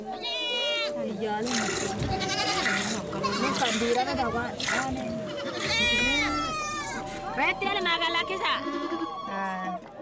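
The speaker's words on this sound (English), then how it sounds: "I have the feeling I'm really hurting this goat, but no." A goat bleats repeatedly while being milked by hand in the far north of Kenya, loud and close, with people talking over and between the cries.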